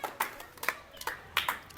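Group clapping during a village-versus-city group discussion debate: a handful of scattered, uneven claps, quiet and somewhat distant, in a short irregular burst.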